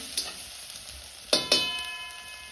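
Spice tempering for dry village-style chana masala sizzles quietly in a pan on a wood-fired stove, punctuated by a few sharp stirring clinks and scrapes close by.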